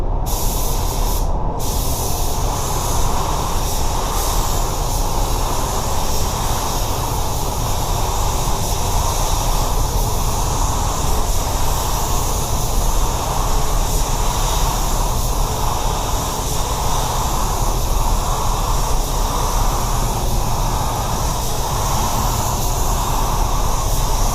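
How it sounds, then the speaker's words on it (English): A Sata 5500 spray gun with a 1.3 nozzle hisses loudly and steadily, spraying Chromax 8300 clear coat on a car for a long stretch, a continuous close airy spray with only slight pulsing, no voices. "I'm ready to spray my clear on this one."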